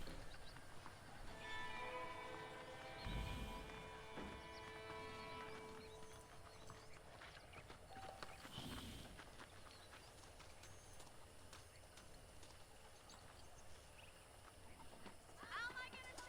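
Horse hooves clip-clop steadily on a ranch in the video game Red Dead Redemption, with someone talking over them and faint birds in the background.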